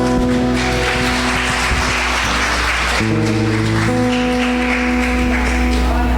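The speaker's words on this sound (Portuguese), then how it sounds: "Você pode aplaudir ao Senhor?" Church congregation applauding to the Lord during a service, steady clapping throughout with sustained organ or keyboard tones underneath, a shift in chords near the middle.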